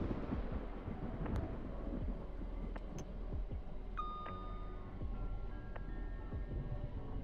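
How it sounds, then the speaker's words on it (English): Thunderstorm in the train simulator game Train Sim World 4, a continuous dense rumble of rain and low thunder filling the scene at steady loudness, with a few faint tonal chimes and whistles over it. "Don't be fooled by the sounds of the thunderstorm."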